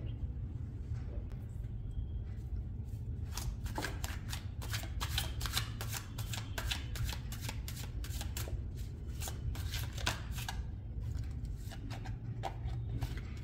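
Tarot cards being shuffled by hand, a run of crisp, rapid riffling and flicking bursts repeating in quick rhythm, close and fairly quiet with no talking.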